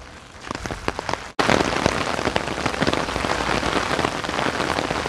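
Rain pours down heavily in Korea, drops spattering on a nearby surface; a lighter patter cuts out briefly, then a louder, denser downpour continues.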